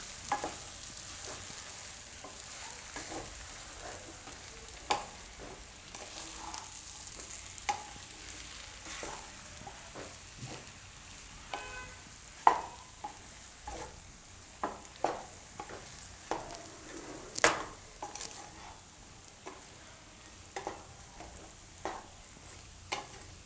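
Potato and amaranth dry bhaji frying in a pan on low heat, a soft continuous sizzle with repeated sharp scrapes and taps of a spoon stirring and mixing, close but fairly quiet, no voices.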